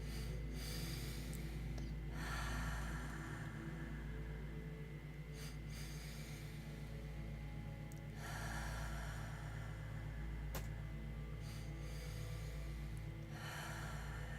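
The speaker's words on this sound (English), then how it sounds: "So you're going to a two-part inhale and a long exhale." A person doing a breathing exercise of a two-part inhale followed by a long exhale, soft sniffing breaths and airy exhalations repeating in slow cycles over a low steady background hum.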